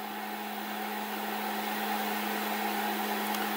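A Snapmaker 2.0 3D printer starts its first print, giving off a steady, even mechanical hum with a sustained low drone and faint higher whirring, continuous and unchanging throughout with no voices.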